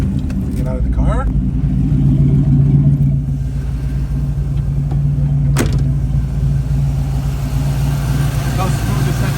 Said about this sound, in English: How smooth this engine runs.